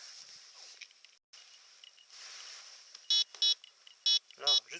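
A Bounty Hunter Land Ranger Pro metal detector sounds four short, bright electronic beeps over aluminium, heard near and clear over a faint outdoor hiss after a quiet stretch.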